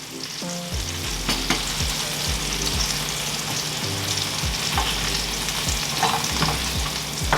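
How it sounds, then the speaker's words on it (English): Salmon fries in a pan with a steady, loud sizzle, stirred now and then so the bottom keeps moving, with repeated scraping strokes against the pan throughout. "making sure you're still moving the bottom of the salmon so it's not sticking and burning"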